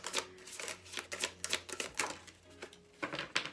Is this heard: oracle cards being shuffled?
yes